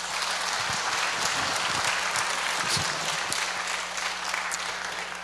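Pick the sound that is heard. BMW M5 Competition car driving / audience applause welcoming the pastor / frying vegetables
audience applause welcoming the pastor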